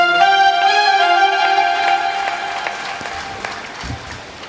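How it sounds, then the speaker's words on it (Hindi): Audience clapping at a Hindu religious ceremony for placing a sacred pot, a steady wash of many hands under a loud sustained melodic tone, gradually fading. "आप लोग तालियां बजा के पुण्य कमा लो"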